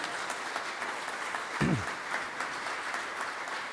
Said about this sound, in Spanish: para quien pido un aplauso de congratulación